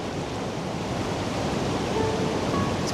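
Mountain creek in Colorado's Lead King Basin near Crystal Mill, a dense continuous rushing roar of flowing water, steady and fairly loud throughout, with no speech.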